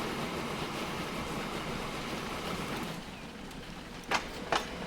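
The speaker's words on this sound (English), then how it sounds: "All right, this is the food train." A food train rolls along in Transport Fever 2, a continuous, moderate rail noise with a couple of sharp clicks near the end and no speech.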